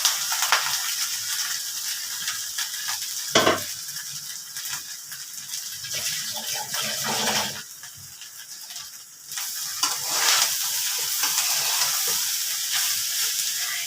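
Grated coconut frying in a little oil for pitha: a soft, continuous close sizzle with occasional stirring scrapes and a brief quieter lull partway through, no voices.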